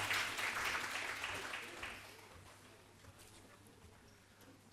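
A conference audience claps, loud at first, then the applause gradually thins and fades away.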